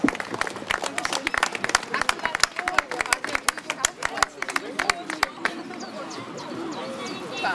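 Brisk, dense applause from an outdoor crowd at a 20-kilometre memorial run award ceremony rises and holds, then thins out into scattered claps and murmuring voices.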